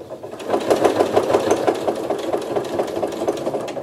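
A sewing machine stitching across a fabric bib, running steadily with a fast, even mechanical rhythm and a light rattle, loud and close, with no talking.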